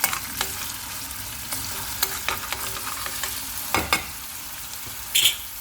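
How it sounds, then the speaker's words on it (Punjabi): Onions for a homemade tomato chutney fry in a pan with a steady sizzle, broken by frequent close spoon scrapes and clicks against the pan, one louder clatter near the end; no talking. "ਪਿਆਜ਼ ਆਪਾਂ ਨੇ ਐਡ ਕਰ ਦਿੱਤਾ ਚੰਗੀ ਤਰ੍ਹਾਂ ਨਾਲ ਮਿਕਸ ਕਰ ਲਾਂਗੇ"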